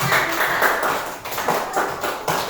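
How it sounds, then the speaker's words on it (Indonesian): A classroom of children claps for a classmate who answered a question correctly, a brief scattered patter of hands in a room. "Tepuk tangan buat Nesya"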